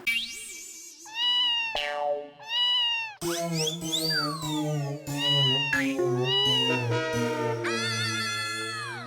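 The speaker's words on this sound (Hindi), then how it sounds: "भिड़ा अंकल, आपके घर में बिल्ली है?" A cat meows repeatedly in a Hindi comedy household scene, a string of clear, rising and falling cries of varying length, close and fairly loud, with short gaps between calls and no talking over them.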